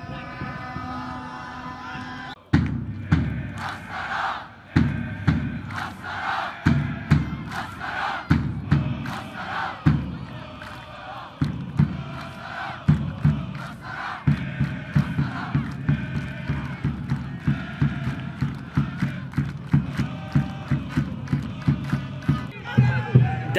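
Damash Gilan football supporters fill a stadium in Astara during a derby against Shahrdari Astara, chanting loudly in a rhythmic, repeated cadence punctuated by steady thumping beats and bursts of cheering throughout.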